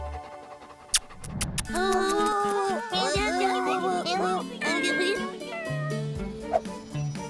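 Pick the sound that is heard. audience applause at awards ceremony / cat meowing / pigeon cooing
cat meowing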